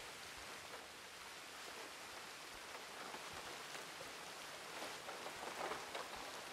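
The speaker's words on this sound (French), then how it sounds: "On est marre de la pluie, là." Steady, faint rain falling outdoors, a soft continuous patter with slightly louder bursts now and then and no voices.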